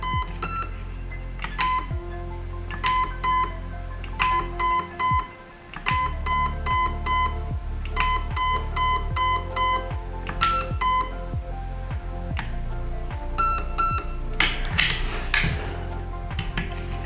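Electronic programming beeps from a Zion Arms PW9 airsoft replica: sets of sharp, close, evenly spaced tonal bleeps sounding in repeated groups, with faint handling clicks between them and no talking.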